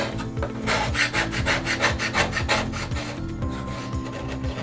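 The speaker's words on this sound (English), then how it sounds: "I'm going to use my scraper tool, and I'm going to just kind of scrape that paste away." A scraper tool drags over dried chalk paste on a transfer-decorated surface in quick, close, rasping strokes that repeat in a steady back-and-forth rhythm, loud and unbroken by speech.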